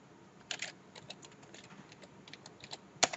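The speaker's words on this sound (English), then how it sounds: "we'll type that in" Typing on a computer keyboard while entering a search term into a WordPress blog, heard as soft, scattered key taps with one sharper clack near the end, faint and alone.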